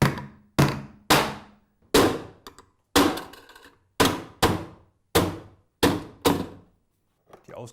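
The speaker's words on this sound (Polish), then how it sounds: "Otwarcia potrzebne do podłączenia przewodów wybija się młotkiem." A hammer knocks out openings in a flat Profi Air Tunnel ventilation distributor mounted on a wall, giving about ten sharp, close thunks in an irregular rhythm, each ringing briefly before the next strike.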